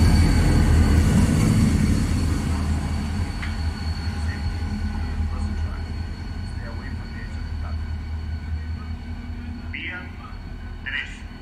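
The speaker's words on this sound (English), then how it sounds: "A train is going to approach without stopping." A train passes through a station without stopping, rumbling steadily, loud at first and gradually easing off, with a continuous low drone and scattered high squeals near the end.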